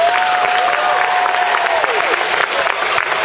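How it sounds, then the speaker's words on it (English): An audience at Fredericksburg Academy's end-of-year school assembly breaks into loud, sustained applause, with a long whistle and scattered cheers riding over the dense clapping. "Give them a big round of applause."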